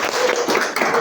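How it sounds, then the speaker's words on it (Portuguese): Children clapping their hands together during a church service, a dense, continuous patter of many hands at close range. "Vamos bater palmas, crianças."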